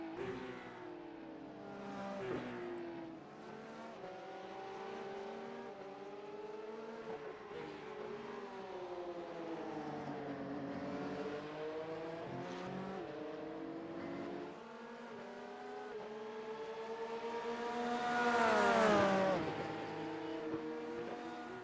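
A Porsche Cup race car engine screams at full throttle at Zandvoort circuit, its pitch rising and falling through gear changes, swelling louder as it passes close by.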